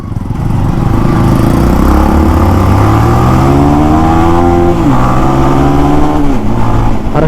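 A 220cc motorcycle accelerates hard in a road race, its engine rising through the revs loud and close, with a brief dip at a gear change before it climbs again, and no talk over it.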